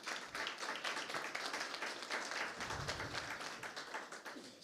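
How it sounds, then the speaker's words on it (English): A small crowd claps for a few seconds, a brief scattered round of applause that tapers off. "Let's give him a round of applause."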